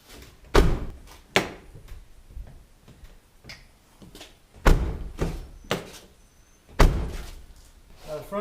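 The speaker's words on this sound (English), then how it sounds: "if the front door will open" Several heavy thunks and thumps sound at irregular intervals, like a jammed, twisted front door of a VW Golf Mk4 being forced, knocked and finally swung open, close by.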